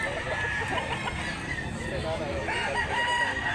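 A rooster crows amid a busy chicken market in Mantalungon, Barili, Cebu, with clucking fowl and crowd chatter in the background.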